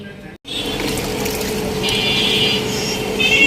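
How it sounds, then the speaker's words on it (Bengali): Water is poured from a hose or pump onto garden plants, including flowering crape jasmine, hibiscus and bougainvillea, as a steady, close rushing flow that carries on without a break. "গাছে পানি দিতে আসলাম,"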